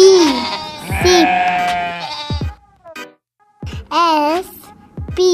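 Sheep bleating loudly up close in several wavering calls separated by short pauses, with some quieter bleats from the flock in between.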